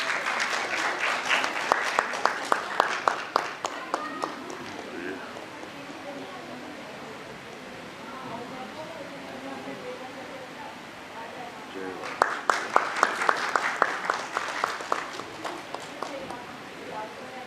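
Theatre audience claps warmly after a stage play, a loud burst of hands at the opening, a quieter stretch with faint murmurs, then another strong round of clapping near the end.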